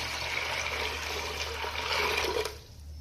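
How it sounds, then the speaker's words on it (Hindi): Two glasses of water are poured into soaked chickpeas for Pakistani chana pulao, a continuous splashing pour that fills the clip and then stops abruptly near the end, with no voice. "पानी डालेंगे 2 गिलास।"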